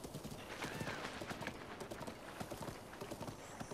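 Galloping horse hooves while riding in the video game The Legend of Zelda: Breath of the Wild, a rapid, steady clip-clop rhythm, fairly faint, with a brief neigh.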